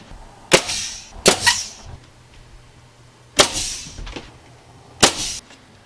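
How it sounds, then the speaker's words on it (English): A nail gun drives long nails into wooden kitchen cabinets in a Promaster conversion van, firing four sharp, loud pneumatic bangs with short pauses between them. "I'm going to put the longest nails that I can in the gun to get it held in place."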